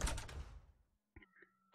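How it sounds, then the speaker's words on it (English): A door is kicked open with a heavy thud in the CS:GO video game, the impact decaying over about a second before a quieter creak and click as it swings shut. "She keeps kicking the door open and then just closing it so that she can kick it in again."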